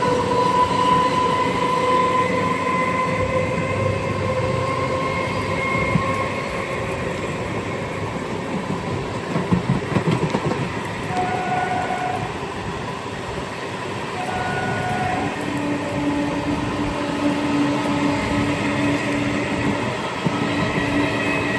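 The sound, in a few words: Kolkata local train running parallel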